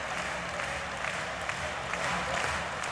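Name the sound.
tennis crowd applause at the US Open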